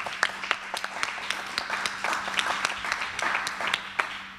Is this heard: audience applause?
yes